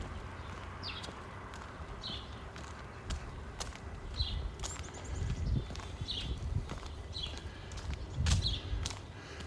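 Footsteps of someone walking behind on an outdoor path in South Wascana Centre, Regina, in early spring, coming as a steady run of soft, fairly close steps under birdsong and outdoor background noise.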